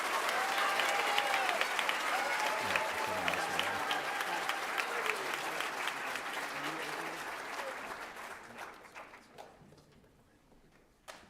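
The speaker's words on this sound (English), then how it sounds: "How about one more hand for our Excellence in ELA Award winners?" Applause for eighth grade school award winners at a high school ceremony, dense clapping from a crowd that gradually thins into scattered individual claps and fades out, with faint music early on.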